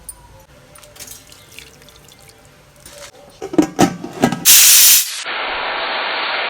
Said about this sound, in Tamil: அரிசி கழனி தண்ணி இருக்குல்ல, அந்த தண்ணியை ஊற்றி போட்டு வைக்கணும்.